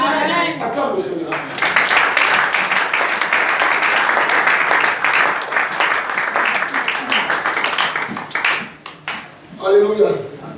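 A church congregation breaks into loud, sustained applause lasting several seconds, dense and close, with speech at the start and end and a few shouts mixed in.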